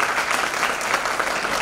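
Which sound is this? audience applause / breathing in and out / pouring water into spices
audience applause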